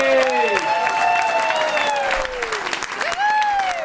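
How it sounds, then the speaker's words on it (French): A studio audience gives the guest Sarah a warm round of applause, steady clapping throughout with a bright sustained tone ringing over it. "qu'on accueille, qu'on salue par un tonnerre d'applaudissements Sarah"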